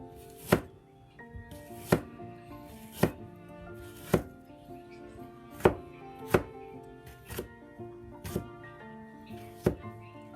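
A knife slicing ginger on a cutting board in a home kitchen, about ten crisp, evenly spaced chops roughly one per second, close and clear with no talking.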